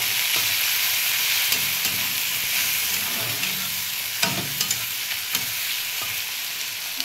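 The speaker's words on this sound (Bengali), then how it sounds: "হালকা হালকা ফ্রাই করতে হবে।" Onions and green chillies lightly frying in a pan give a steady, close sizzle throughout, with a few sharp clicks from stirring and no talking.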